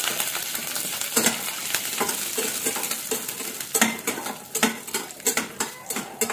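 Peanuts, chana dal, urad dal, mustard seeds and cumin roasting in a hot pan, with a steady dry sizzle and repeated scraping stirs of a spoon against the pan, growing more frequent toward the end.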